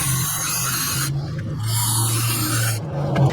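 Nylon brush scrubbing front brake hardware on a Lexus RX300 soaked in brake cleaner, a loud, close, continuous raspy scrubbing in back-and-forth strokes with brief pauses between them.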